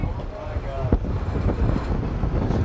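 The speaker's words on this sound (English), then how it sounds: "Listen to the wind" Strong wind buffets and roars steadily with rumbling gusts, heavy and close, rushing over an open boat at night on the Sea of Galilee.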